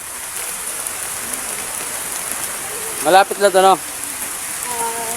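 Rain falling steadily outdoors on the way to a mud spring in Los Baños, Laguna, a constant soft patter with a short burst of talk midway.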